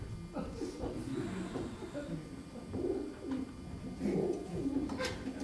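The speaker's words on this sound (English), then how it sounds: "Well, mind the pigeons. They're trying to sleep." Pigeons coo softly in the background, low throaty calls under people talking on a stage.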